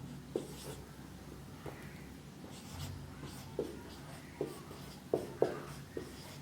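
Chalk or a marker writes on a classroom board during a zoology lesson, giving faint scratchy strokes and occasional sharp taps at irregular intervals over a quiet room.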